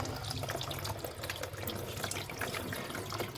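Mixed multani mitti mud and water is strained, producing a close, continuous watery trickle and splashing with faint drips and wet rustling throughout.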